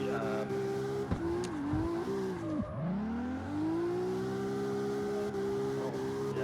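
Video game car engine in CarX Street whines and revs as the car drifts, the pitch dipping and climbing between slides, a loud continuous synthetic engine tone with no talking.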